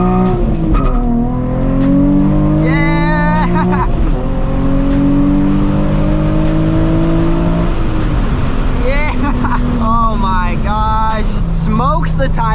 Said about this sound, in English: Smokes the tires with absolute ease.